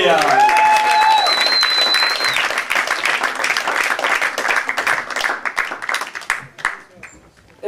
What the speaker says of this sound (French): Applaudissez Saphir.